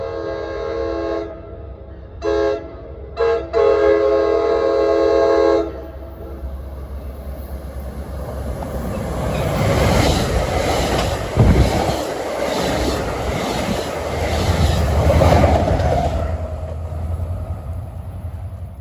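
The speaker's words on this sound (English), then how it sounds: "8 o'clock, we got a eastbound train, some kind of a deadhead move." An eastbound deadhead train passes the station at Ramsey, New Jersey. Several loud horn blasts come first, then the rumble and clatter of the train swell as it passes close by and fade away.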